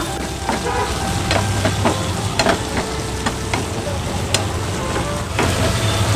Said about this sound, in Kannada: ಈಗ ಇದಕ್ಕೆ ನಾನು ಟೊಮೆಟೊ ಹಾಕೊಳ್ತಾ ಇದ್ದೇನೆ ಎರಡು ಟೊಮೆಟೊವನ್ನು ಉದ್ದಕ್ಕೆ ಹೆಚ್ಕೊಂಡಿದ್ದೇನೆ ಇದನ್ನು ಈಗ ಸ್ವಲ್ಪ ಫ್ರೈ ಮಾಡಿಕೊಳ್ಳುವ